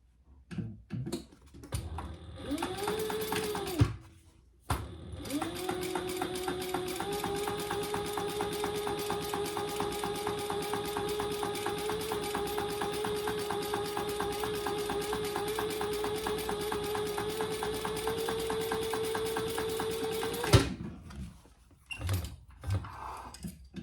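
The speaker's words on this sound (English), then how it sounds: "we're going to top stitch on the band, which is this piece D" A sewing machine top-stitches the band of a wristlet, running as a steady mechanical hum for about fifteen seconds, framed by short handling clicks before and after.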